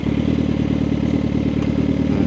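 Suzuki GSX-R 750 sport motorcycle engine running on the way to work, a loud, steady, close throbbing drone with no talk.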